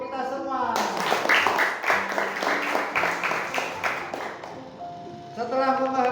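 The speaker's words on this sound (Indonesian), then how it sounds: "Kita beri tepuk tangan untuk kita semua" A classroom group claps together for a few seconds during an Islamic cultural history lesson, with a melodic tune playing throughout before and after the burst of clapping.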